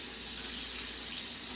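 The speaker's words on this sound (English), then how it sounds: "I'm gonna rinse that off because I'm gonna reuse that" Tap water runs steadily into a kitchen sink as a used utensil is rinsed off while raw chicken is being prepared; a continuous close hiss and splash with no voices.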